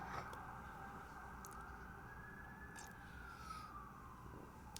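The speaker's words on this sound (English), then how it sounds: "every time I have to do a sound test, there's sirens" Emergency vehicle siren wailing outside, a faint, distant tone rising and falling slowly and steadily over a low background hum, with a few soft clicks scattered through.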